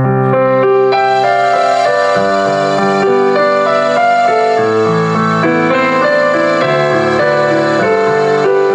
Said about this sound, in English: One of the sounds is a dual sound like this, which gives you piano and strings.